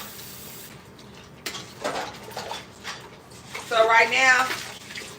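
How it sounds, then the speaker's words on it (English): Running water from a kitchen tap rinsing cornmeal out of a bowl, a splashing gush that swells and fades in bursts, with a person speaking over it at the start. "I'm rinsing this bowl out too."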